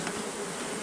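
Honeybees buzz steadily at a small hive during a super-adding and nuc-to-hive transfer, a dense, even drone filling the whole moment up close with no voices.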